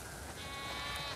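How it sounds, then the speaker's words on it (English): Sheep bleat faintly on a farm in The Last of Us Part 2, a short, soft bleat with no talk. "We definitely have way too many sheep."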